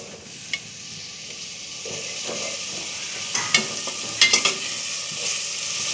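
Grains of jaggery stirred into rice cooking in a pot for a traditional Barisal sweet dish, giving a soft steady sizzle with scraping stirs and a few light clinks near the end.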